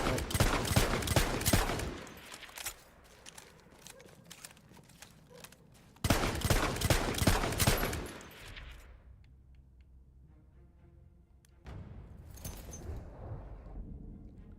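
Automatic weapon fire in a video game arrives in loud sustained bursts separated by quieter pauses where echoes fade, with no speech.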